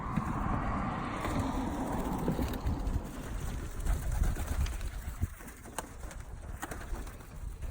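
Birmingham Roller pigeon cooing softly amid steady outdoor background noise, low murmuring coos running throughout with a few faint clicks and rustles, no talking.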